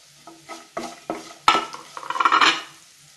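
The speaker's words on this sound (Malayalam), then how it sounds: "എല്ലാം കൂടെ ഇട്ട് നന്നായിട്ട് മൂപ്പിച്ചെടുക്കുക." Turmeric powder and spices being stirred and roasted in a pan while making crispy pori: a series of scraping, clinking stirs against the pan, with a brief sizzle and busier clatter toward the end, no talking.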